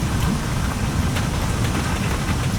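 Heavy rain pouring down over a village, a dense, steady hiss of downpour that stays loud and even throughout, with no voices.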